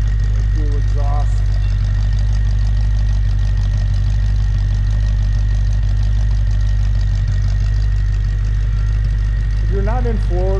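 Dual exhausts of a 1963 Ford Falcon Futura burble at a steady idle, a loud, close, low-pitched drone that never varies, with short vocal-like chirps near the start and again at the end.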